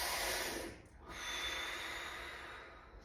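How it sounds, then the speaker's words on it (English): Deep breathing exercise: a long breath drawn in and out close to the microphone with a steady airy hiss, a brief pause near the middle, then another sustained breath. "And we're going to breathe."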